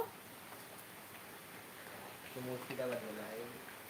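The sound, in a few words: rain falling outside a veranda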